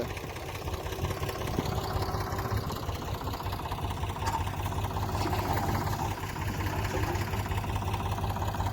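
A tractor loaded with manure runs at a farm, its engine a steady, close, low drone that holds unbroken from start to finish.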